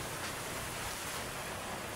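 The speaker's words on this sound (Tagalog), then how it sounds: "Lakas pa ng ulan." Heavy rain pours during a typhoon, a dense, constant roar of rainfall with no talking.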